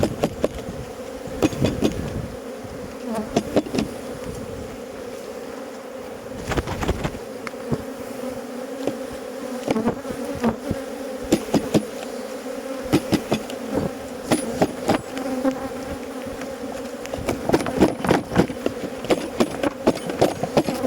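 A steady, dense buzz of many honeybees close by as a hive frame is shaken during honey harvest, with scattered knocks and bumps of wooden hive parts.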